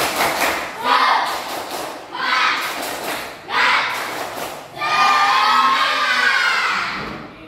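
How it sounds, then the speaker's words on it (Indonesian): Students in a coding class do a rhythmic spirit clap, three short bursts of patterned clapping followed by a longer cheering burst, with a teacher's voice between. "kita tepuk semangat dulu, ya"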